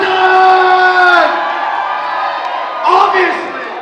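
Excited audience at a student union elections results night cheering and whooping in loud bursts, a big swell at the start and another near the end, with a voice projecting over the crowd.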